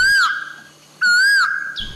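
An Asian koel calls from a clump of trees in the Vietnamese countryside, giving two loud, clear whistled notes close by, each rising then falling away, alone without talk.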